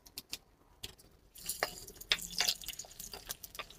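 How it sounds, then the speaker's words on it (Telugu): Green chilies dropped into hot oil for a mango and sweet potato chutney crackle and spit softly, a faint scattering of sharp pops and hisses that grows busier after a quiet start. "ఇదిగోండి, పచ్చిమిరపకాయలు వేస్తున్నాను. నూనె కాగిపోయింది."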